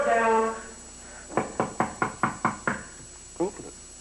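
Police pound on a door with seven firm, evenly spaced knocks, close and loud, after a voice and followed by a brief voice.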